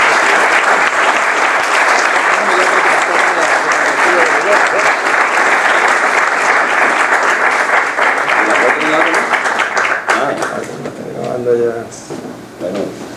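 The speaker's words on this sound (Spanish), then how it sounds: "Vamos a darle un fuerte aplauso." Conference audience applauding strongly in a hall, a dense, sustained clapping that fills most of the span before thinning out near the end as voices begin.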